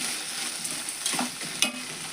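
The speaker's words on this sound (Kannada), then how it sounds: "ಎಣ್ಣೆ ಒಳಗೆ ಹುರ್ಕೊಬೇಕ್ರಿ ಇದನ್ನು" Sprouted horse gram fries in oil in a pan with a steady soft sizzle, while a spoon stirring and scraping through it makes a few brief louder scrapes.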